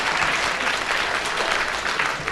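A BBC Radio 4 studio audience bursts into steady, dense clapping during a comedy panel game, a full, continuous wash of applause filling the room with no voices over it.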